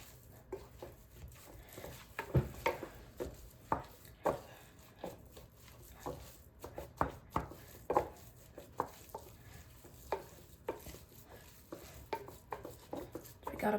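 A spatula or wooden spoon stirs and mixes raw ground elk sausage meat in a bowl, making a steady string of soft, irregular scrapes and squelchy taps close up, with no talk.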